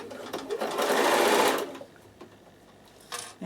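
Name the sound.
Bernina sewing machine stitching down tape on a toiletry bag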